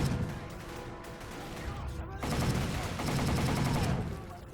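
Rapid automatic gunfire from a shooter video game, with dense overlapping bursts of shots that run almost continuously and grow louder partway through.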